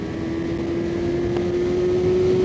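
A 2025 Honda CBR600RR motorcycle engine holds a steady, loud high-rev drone with a single sustained tone, close by and alone, with no talk over it.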